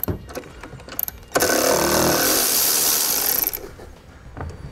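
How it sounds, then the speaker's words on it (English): A ratchet with an extension and 13 mm socket works a nut loose during a trailer brake controller ground wire installation on a 2017 Ford Escape, giving a quick burst of close rapid clicking for about two seconds amid handling noises. "I'm going to take an extension and a 13 millimeter socket,"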